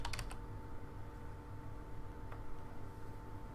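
Quick keyboard taps typing a search in a modded Minecraft game, a brief burst of clicks at the start and one more later, faint over a low steady hum.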